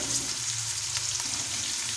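Peas fry in a pan with a steady, close hiss and crackle that holds at an even level throughout, with faint music beneath.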